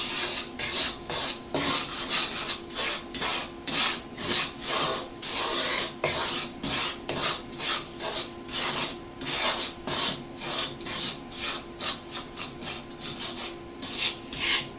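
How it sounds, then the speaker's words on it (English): A flat spoon scrapes and stirs a thick paste around the base of a pan for spaghetti bolognese, making rhythmic rasping strokes in quick repeated bursts, close and steady for the whole stretch, with no talking. "Now we're just going to mix it all together."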